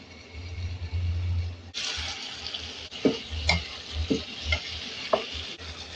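Chicken pieces sautéing in a pan until browned, a steady loud sizzle with repeated stirring scrapes and clinks over it, close up, no talking.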